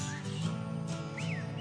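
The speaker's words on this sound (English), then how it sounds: "Some good bird noises there" Bird-like chirps and rising whistled tweets layered within a dense, busy song recording, faint and brief against steady music.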